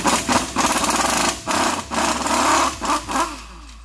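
An impact wrench driving a wobble socket on a 2017 Ford Explorer axle during a wheel bearing job, loud rapid hammering bursts broken by brief pauses, close up with no talking.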